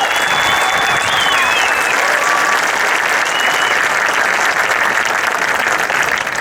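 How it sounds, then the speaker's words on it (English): An audience at a high school graduation ceremony applauds the graduating class, loud and continuous crowd clapping that stays dense and full for the whole stretch, with faint whistles riding over it early on. "A round of applause for this class."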